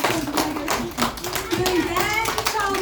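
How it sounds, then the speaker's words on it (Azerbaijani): Children in a classroom during an open lesson break into scattered, uneven applause for a classmate, a run of quick claps mixed with a teacher's voice and children's chatter. "Alqışlayın yoldaşınızı."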